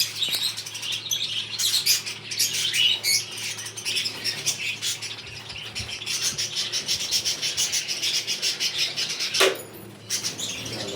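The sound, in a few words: pet birds chirping, budgies and finches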